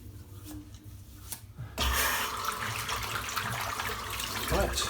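A tap suddenly starts running to rinse a shaving brush, and a steady close gush of water pours into a sink after a quieter moment of small handling noises.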